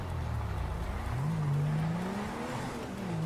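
Car in GTA RP France pulling away, its engine tone rising and holding steady through the short stretch, fairly loud and continuous with no talking.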